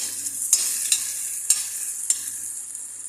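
Rice being stirred into shrimps frying in a pan, a steady sizzle with four distinct scraping stirs spaced about half a second apart, no voices.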